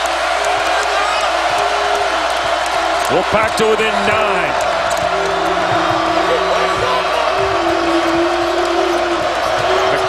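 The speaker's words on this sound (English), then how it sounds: "it brings the crowd back to life on this 8-0 run" Home crowd at an NC State basketball game against #6 Louisville roars back to life during an 8-0 run, a steady loud arena din of cheering with a play-by-play commentator talking over it throughout.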